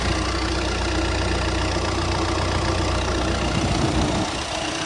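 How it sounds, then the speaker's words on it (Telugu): A 2019 Maruti Suzuki Ertiga ZDI+ diesel engine idles steadily and loudly close by, with an even low rumble and a slight dip near the end. "వెహికల్ ఆన్లోనే ఉందండి."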